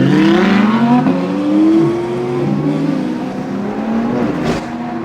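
Loud supercars at an F1 track cruise in Australia, engines revving hard with rising, roaring gear pulls as one accelerates and overtakes, close and continuous with no talk.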